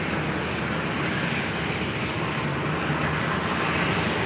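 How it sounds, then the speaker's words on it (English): A Southwest Airlines jet in Arizona One livery departs LAX for Austin, a steady broadband engine rumble at moderate distance without distinct peaks. "this is Southwest Airlines in the Arizona 1 livery plate 792, heading to Austin,"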